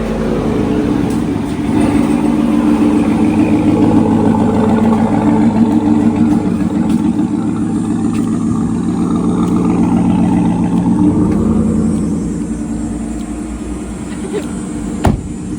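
A car fitted with a new Corsa catback exhaust rumbles loudly with a deep exhaust tone, rising and falling in steady revs close by, with faint voices underneath.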